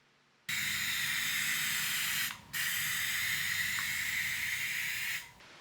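A spray gun hisses steadily while spraying lacquer onto live-edge wood tabletops, two long continuous bursts separated by a short pause, close and even.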